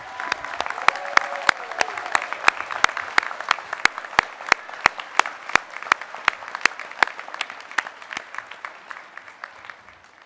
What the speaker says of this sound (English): Please join me in a round of applause for these graduates and their accomplishments